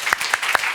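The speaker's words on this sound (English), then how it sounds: "Very quick applaud for you." Brief applause from an audience at a conference session: a few sparse, spaced claps over about a second, fairly quiet and alone.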